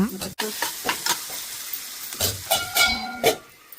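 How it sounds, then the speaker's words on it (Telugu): Cherry tomatoes and green peas fry in a pan for tomato curry, giving soft sizzling and intermittent stirring scrapes in short bursts, fairly quiet and close. "చెర్రీ టమాటోస్ కూడా వేసి ఒక నిమిషం ఉంచి దానిలోనే ఇప్పుడు మనం పచ్చి బఠానీ కూడా వేసేసుకోవాలి ఇవి కొంచెం వేగిన తర్వాత"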